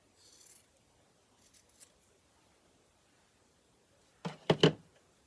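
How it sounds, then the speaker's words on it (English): Scissors snip through a scrap piece of fabric beside a White Power Lock serger, a few soft quiet cuts early on, then two sharper, closer snips near the end in an otherwise quiet room. "Let me cut a piece of fabric here."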